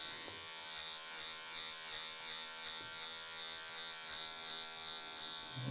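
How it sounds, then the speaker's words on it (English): Electric hair clipper buzzing steadily and close up while cutting hair, a continuous even drone with slight wavering as it passes over the head. "my fingers just kind of passing that clipper up and around the hair"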